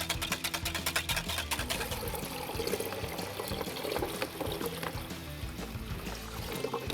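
Cool water pours steadily into a brine bag for curing ham, a busy continuous splashing and trickling with some background clatter, close and moderately loud throughout.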